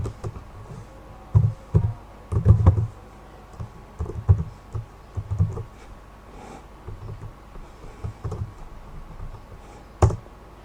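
Typing on a computer keyboard while entering Python code: irregular bursts of close, soft key clacks in short runs with brief pauses between them.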